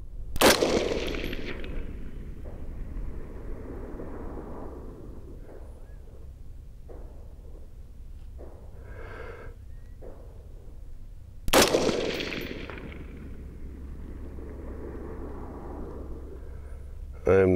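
A rifle fires at a target through an Arken EP-8 1-8x28 scope. Two loud, close gunshots ring out about eleven seconds apart, each followed by a long decaying echo, with quiet outdoor ambience between them.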